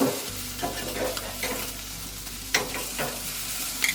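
Food frying in a hot pan gives a steady sizzle through the whole stretch, broken by scraping and clinking as it is stirred and turned, up close and fairly loud with no one speaking.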